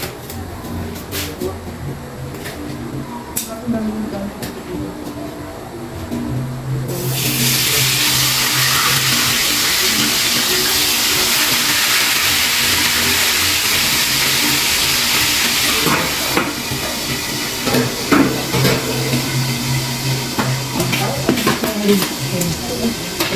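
A steady, loud sizzling hiss of food frying in hot oil swells in and holds, over a background of ongoing noise and movement.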